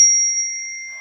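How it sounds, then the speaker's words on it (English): Metal chimes rung once, a clear sustained ringing tone with a bright overtone that decays slowly and smoothly, heard alone in quiet surroundings. "I have my chimes over here."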